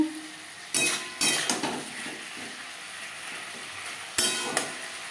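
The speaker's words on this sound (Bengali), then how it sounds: "সবজির সাথে টমেটো বেশ ভালো করে মিক্স করে দেবো" Sliced tomato and mixed vegetables sizzle on high flame in a pan while a spatula stirs them, giving bright metallic clanks and scrapes in a few bursts over a steady frying hiss, close and without talk.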